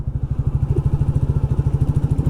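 A Royal Enfield Classic 350 motorcycle engine, recently fitted with a new air intake, runs steadily nearby, putting out an even, rapid low thumping beat that holds throughout.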